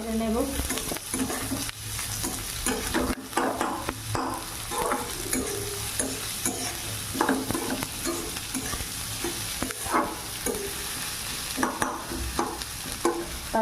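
Chopped onion frying in oil in a wok while being stirred, a continuous sizzle broken by repeated scraping strokes of the spatula, close and moderately loud.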